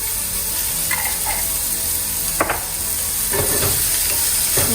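Cabbage and egg sautéing with salt and turmeric in a hot pan, a steady sizzle running throughout with a few sharp stirring scrapes and clinks from the spatula toward the middle and end.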